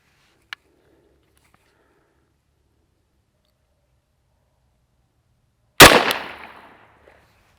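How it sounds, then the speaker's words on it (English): A single loud gunshot fired into drywall, a sharp near crack followed by a decaying echo tail, preceded by a faint tick and otherwise quiet surroundings. "Try to shoot a little more to the right of those other rounds."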